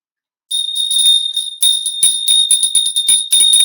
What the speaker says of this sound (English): I have a bell right over here